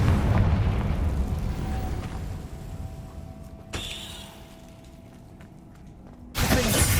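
A booming blast from the Confringo fire spell in Hogwarts Legacy on PS5, starting loud with a rumbling tail, a sharp secondary burst midway, then another loud eruption at the end.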